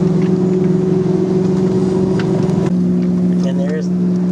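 A motorboat on the Colorado River passes close by with a steady droning hum, its engine tone shifting partway through, joined by faint wind and a short snatch of voice.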